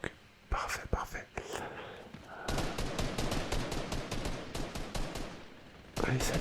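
Fortnite gunfire crackles in quick rapid bursts and scattered single shots, forming a busy stretch of firing while a voice whispers over it.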